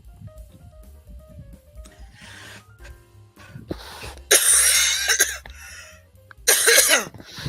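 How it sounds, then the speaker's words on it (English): A few harsh coughs break out in bursts, close to the listener, with quieter rustling between them. "Excuse the cough."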